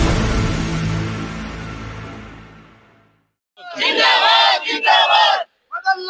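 Protest crowd at Jantar Mantar, New Delhi, shouting together loudly, a sustained roar that fades out, then after a short gap bursts of chanted shouts return strongly.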